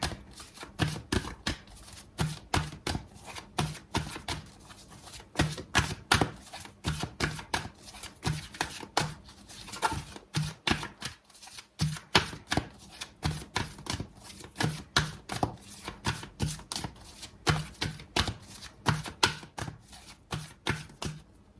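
A deck of tarot cards is shuffled over and over for about twenty seconds: a dense, steady run of quick papery riffles and slaps, fairly quiet and close, with no voices.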